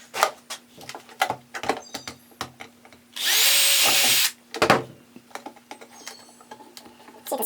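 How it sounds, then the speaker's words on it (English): A power drill whirs in one steady burst of about a second, driving a screw into a small wooden birdhouse, framed by scattered close handling knocks and taps before and after. "I'm going to drill on this little baby onto the top somewhere."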